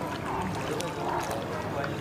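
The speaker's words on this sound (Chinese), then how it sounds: "来了个快艇。" A speedboat runs along a river on the China–Russia border, its steady engine and water rush filling the scene as a broad, continuous wash of noise, with faint voices underneath.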